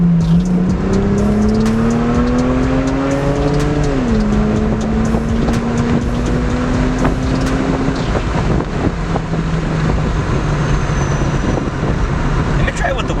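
Lexus IS300 fitted with a Y pipe accelerating on an open road, engine note rising through gears with a shift dip, heavy wind rush over the drone, and a voice talking faintly underneath.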